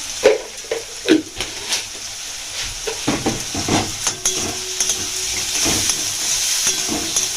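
Onions frying in oil with a spoonful of sugar in a pan for a fish curry, giving a steady close sizzle and hiss with occasional scrapes and clatters of stirring.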